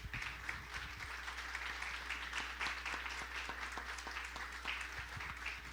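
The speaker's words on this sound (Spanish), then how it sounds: "¿por qué no les damos un aplauso a mis hermanos?" A church congregation breaks into sustained applause, a dense, even wash of many hands clapping that runs steadily throughout at a moderate distance.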